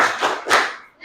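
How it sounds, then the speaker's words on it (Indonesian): An audience at a school teacher-training session claps together on cue in a short rhythmic pattern, a few quick sharp bursts followed by a shouted group word. "Tepuk semangat."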